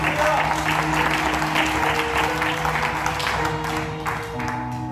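Congregation applause at a church service, a dense steady clatter of clapping that fills the whole clip, with music and voices underneath.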